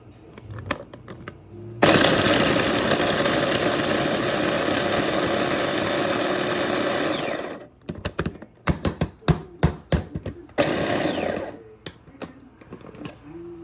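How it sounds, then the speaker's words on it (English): A mini food processor chops onion and garlic in one loud continuous whirring run of about six seconds, followed by a series of short pulsed bursts and a final brief buzz. "so I put this in the mini processor. I'm going to add my onions to it next."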